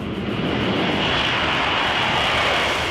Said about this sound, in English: I'm accelerating down the runway and literally just click a button, and then the plane will take off by itself